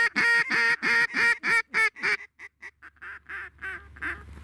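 At a public pond in Colorado, geese give a rapid series of loud honking calls, a dozen or so in quick rhythm, trailing off into fainter, more distant honks.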